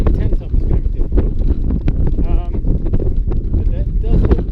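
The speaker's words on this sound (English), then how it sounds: "it's really windy" Strong wind roars across the microphone in a steady, loud buffeting rush in the high Andes, masking any other sound, with no clear talk.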